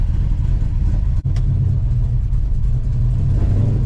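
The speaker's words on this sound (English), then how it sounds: "First drive in this car since July of 22." A 1968 Dodge Charger engine hums steadily with a deep low rumble throughout, heard from inside the car, with one brief dropout partway through.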